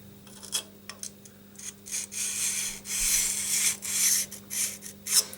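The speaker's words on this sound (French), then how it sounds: "je vais passer un coup avec le fer carré" Square steel rasping against the edge of a jointer-planer blade as it is honed, a run of short scraping strokes of uneven length, close and fairly loud, with no talk.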